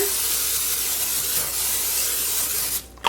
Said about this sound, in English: first off it says to spray the liner